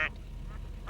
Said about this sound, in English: Duck, look.